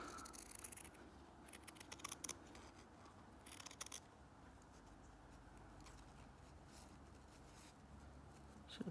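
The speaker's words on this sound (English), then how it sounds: "So again, we just cut around it." Scissors snip around a printed fabric design in a stitching project: faint, close blade crunches come in short bursts with pauses between, over a quiet background and no talking.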